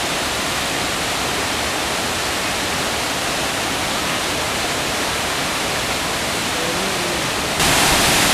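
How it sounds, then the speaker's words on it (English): A waterfall in Alaska roars loudly and constantly, a dense unbroken wash of rushing water close by. "There's the waterfall."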